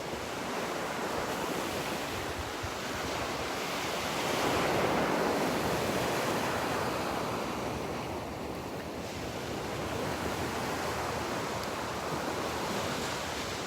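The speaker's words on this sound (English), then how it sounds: "Close your eyes and listen to the sound of the waves." Ocean surf rolls onto Vanderbilt Beach in a continuous, full wash of breaking waves that swells and recedes slowly, mixed with some wind noise and no voices.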